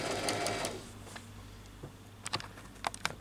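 A sewing machine stitching around a fabric neckline on a child's dress whirs steadily at first, then fades into quieter scattered clicks and taps as the stitching ends.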